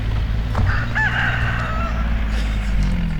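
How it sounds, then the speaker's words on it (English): A rooster crows once at middle distance over a constant low engine-like hum, the call rising and then trailing off. "Get the rooster?"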